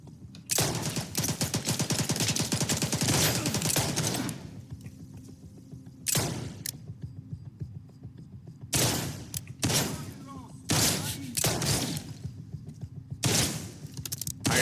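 Gunfire in the shooter game S.T.A.L.K.E.R. 2: a long sustained automatic burst, then several separate short bursts of loud, close shots with pauses between.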